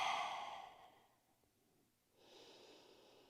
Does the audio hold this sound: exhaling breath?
yes